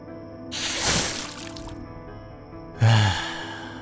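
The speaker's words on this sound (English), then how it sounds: "fetching a pail of water and beginning to drink" Water sloshes and splashes in a pail drawn from a well, in two close, loud bursts, the first long and trailing off and the second abrupt, with no talking.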